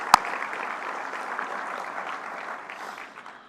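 Audience applause at an awards evening, a dense, even patter of clapping that starts with a sharp clap and fades gradually toward the end, with no voices.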